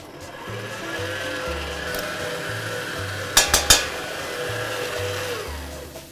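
An electric meat grinder minces meat with a steady motor whir and a grinding churn, and a pulsing low hum rises and falls throughout. A few sharp knocks come near the middle of the run.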